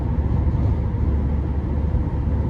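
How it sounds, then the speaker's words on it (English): Low, steady rumble of tire and road noise inside a 2015 Chevrolet Captiva Sport LTZ on the move, a constant droning hum with no voices over it. "Road noise is a bit prevalent,"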